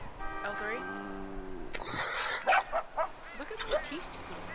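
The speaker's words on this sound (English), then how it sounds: "How do you bark, Allison? How you barking" Cartoonish dog barks, yips and whimpers from a video game, heard close in short bursts, mixed with electronic tones and voices talking over them.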